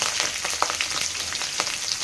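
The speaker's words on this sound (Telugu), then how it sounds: "ఆవాలు కరేసుకున్నాక చిట్టపట్ట కొన్ని ఎల్లిగడ్డలు వేసుకున్నాం." Mustard seeds, garlic and green and dry red chillies sizzle in hot oil for a sambar, a steady loud frying hiss scattered with sharp crackles and pops, close up and without talking.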